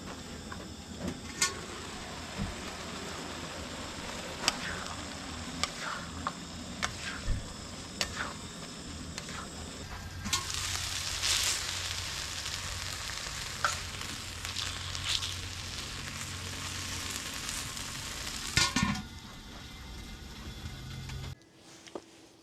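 Food, including rice, cooks on a Skottle grill outdoors on a Death Valley day trip, giving a steady sizzle and frying hiss broken by scraping and stirring clicks, which swells louder midway and then cuts off near the end.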